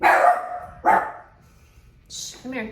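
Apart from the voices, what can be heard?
dog barking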